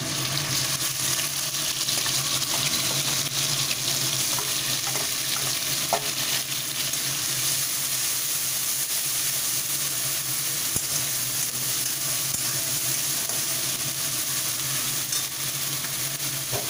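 Ground onion, chili, garlic and ginger paste frying in hot oil for a spicy crab curry, a steady, even sizzle and hiss lasting throughout with a few faint clinks.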